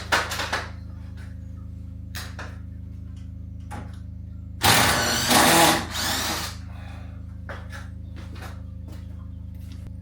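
A power drill driving screws into old wood in an Irish cottage gives one loud whirring burst of about two seconds mid-clip, surrounded by quiet room tone and scattered small clicks and knocks.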